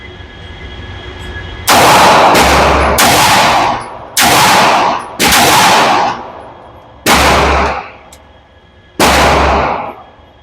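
Fusion Firearm XP Pro Ltd Edition pistol in PVD bronze fired at an outdoor range, seven loud, sharp gunshots spaced about a second apart, each with a ringing tail and a brief echo.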